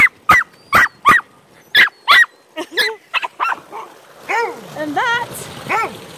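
A wet swamp dog just out of a swim barks in a string of sharp, close, loud yips, then whines and whimpers, with someone speaking briefly partway through.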